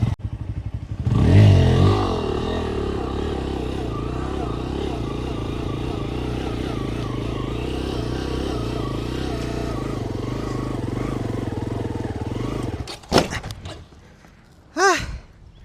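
A stunt motorcycle engine revving with the throttle during flatland stunt practice, a loud, close, rough engine roar that swells and holds for about twelve seconds before cutting off, followed by a few brief clattering sounds.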